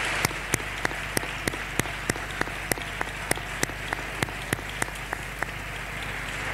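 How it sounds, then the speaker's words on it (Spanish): Parliament members applaud in the chamber after a new deputy takes the oath, a steady sequence of separate sharp claps spaced evenly through the clip over a faint, constant room hum. "Y ahí el hemiciclo te aplaude."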